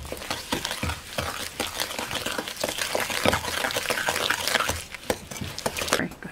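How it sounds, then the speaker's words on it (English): Eggs stirred into whoopie pie batter in an off-grid kitchen, a steady scraping and sloshing of spoon against bowl with repeated knocks throughout, fairly close and moderately loud. "I got to stir in the eggs"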